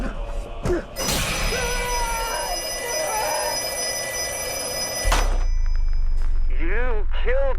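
A telephone rings in a horror film trailer, its bell bursting out loud amid dense music and effects, with voices speaking around it.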